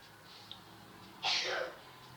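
A single quick sneeze, close and fairly soft, against a quiet room background.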